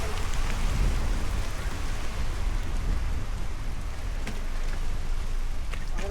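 Heavy rain during a storm pours steadily for several seconds, a loud constant wash with occasional sharper drops and no voices.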